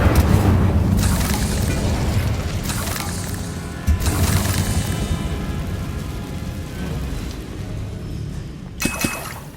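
In Hogwarts Legacy, the Incendio fire spell bursts with a loud whooshing boom, then a crackling, roaring rush of flame that slowly fades, followed by a sharp second burst near the end.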